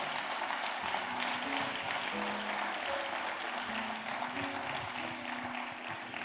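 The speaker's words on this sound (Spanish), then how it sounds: "Vamos a darle un aplauso fuerte al Señor si lo entiendes." A church congregation applauds, a broad, steady clapping from many people with faint sustained musical tones running underneath, fairly distant and even throughout.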